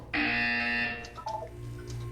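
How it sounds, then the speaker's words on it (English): An electronic buzzer tone in the Portal 2 video game sounds once, loud and sustained for about a second, then gives way to softer chiming game tones and low background hum. "When you hear the buzzer, look down at the floor."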